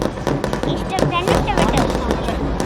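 Fireworks crackle and pop in rapid, irregular bursts at the Thrissur Pooram sample fireworks display, with whistling streaks and people talking amid the noise.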